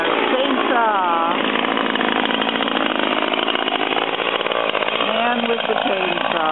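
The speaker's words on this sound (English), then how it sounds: "Man with the chainsaw." Chainsaw running steadily at a public gathering, a loud, continuous high whine close by with slight rises in pitch, while people talk in the background.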